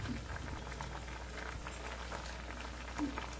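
Kair sangri, a Rajasthani dish, boils in a pot of water with a steady, close bubbling and patter that continues throughout.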